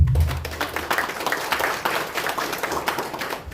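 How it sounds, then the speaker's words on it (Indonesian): An audience claps in a dense, sustained round of applause for a newly appointed Indonesian hajj official, a full room of hands patting steadily before tapering off. "Tepuk tangan untuk beliau."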